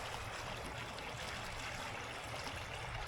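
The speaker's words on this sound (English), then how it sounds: "the river, it is flowing pretty fast." A fast-flowing river rushes past a gravel bank on a riverside walk in a Calgary park, a steady, broad wash of moving water heard from the bank at moderate distance, with no voices.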